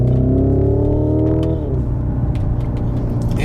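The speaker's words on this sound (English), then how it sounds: "if you let your foot off the gas and then downshift, you'll also hear the boom boom boom boom boom boom sound as well" Synthetic engine sound of a 2025 Hyundai IONIQ 5 N electric car: a loud droning harmonic tone that drops in pitch as the car downshifts, followed by a lower rumble with a few light pops.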